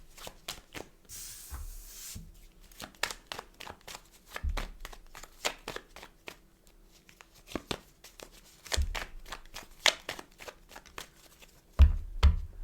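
A shuffled deck of cards is handled up close with a rapid run of crisp, soft clicks and riffles. A few louder card taps and slaps land along the way, and no one speaks.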